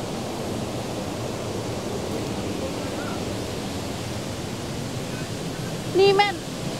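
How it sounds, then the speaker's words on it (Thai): Steady broadband rush of the Tat Kai waterfall in Khamkeut, Laos, continuous and fairly near, with a brief voice near the end. "นี่แม่นนี่แม่นน้ำตกตาดเลยเนาะ"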